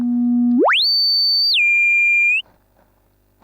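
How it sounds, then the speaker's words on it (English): A sine wave from a Frap Tools modular synthesizer holds a low steady pitch, sweeps sharply upward into a high whistling tone, steps down slightly, then cuts off abruptly, leaving near silence. "Now you can hear that I still had my sine wave going in."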